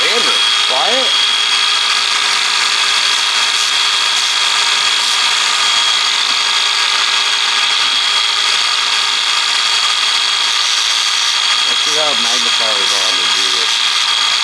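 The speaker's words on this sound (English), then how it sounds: "I really like this sander." Power sander running continuously, a loud steady high-pitched whirring buzz that holds for the whole stretch, with someone talking briefly at the start and near the end.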